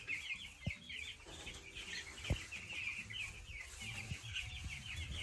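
Broiler chickens cluck steadily on a South African farm, a dense flock chorus running throughout, with a couple of sharp knocks from feeders or equipment nearby.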